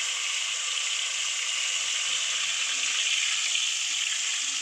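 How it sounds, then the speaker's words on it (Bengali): Koi fish fries lightly in oil with an even, hissing sizzle that holds steady and close the whole time. "হালকা ভাজবো কই মাছটা"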